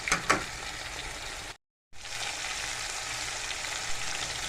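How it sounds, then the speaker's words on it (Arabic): Lout fish fries in hot oil, a steady close sizzle running throughout with a brief louder crackle at the start and a short cut to silence partway through. "قلنا نحمرها في الزيت عشان لو عملنا الرز ياخد طعم السمكة"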